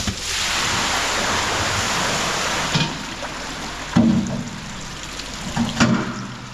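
Water dumped out on a snowy farm gushes in a steady, loud broadband rush, with a few louder surges and thumps toward the end.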